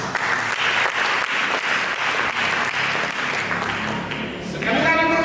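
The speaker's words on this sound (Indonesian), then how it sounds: "Mari kita berikan tepuk tangan." Dense applause from a church congregation after a sermon, steady and loud across the whole stretch, with a faint voice or tone rising near the end.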